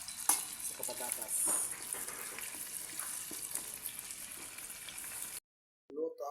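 Vegetables and meat for caldereta fry in a pan with steady, close sizzling and occasional stirring scrapes, stopping abruptly near the end before a brief voice is heard.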